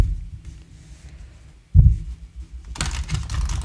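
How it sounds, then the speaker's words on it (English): Cards from a Mamluk playing card deck being side shuffled and pushed together: a soft low thump, then a dense, crisp rustle of sliding cards, close and fairly loud. "you can side shuffle it and just push them together"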